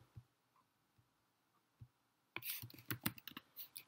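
Typing on a computer keyboard comes in two parts, a few sparse, soft keystrokes followed by a quick, close burst of clicky taps.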